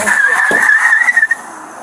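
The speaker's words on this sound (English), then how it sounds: "her car speeding into the darkness" A car speeds off into the night during a police stop, its tires squealing in a sustained, high screech with bursts of engine noise, loud and close, then fading toward the end.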